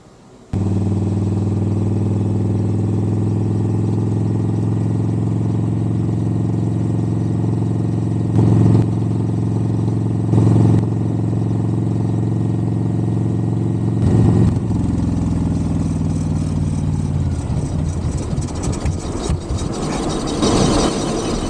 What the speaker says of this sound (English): Let's go for a test ride.